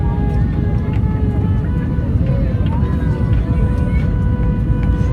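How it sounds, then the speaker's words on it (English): An IndiGo airliner on final approach to Bagdogra airport, heard from inside the cabin as a steady, loud low engine and air roar that continues evenly throughout, with faint tonal whines riding above it. "We are now on our final approach to"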